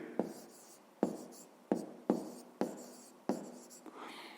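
A pen or pencil writing an answer by hand on paper, six short scratchy strokes spaced about half a second apart, close and quiet, with no talking.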